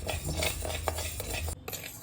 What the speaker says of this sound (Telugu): లో ఫ్లేమ్లో పెట్టి ఇలా వేయించుకోవాలి కలుపుకుంటూ